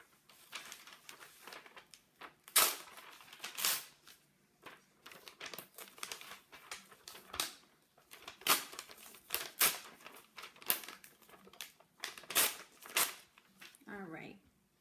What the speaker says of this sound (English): I want you to tear your paper off into strips.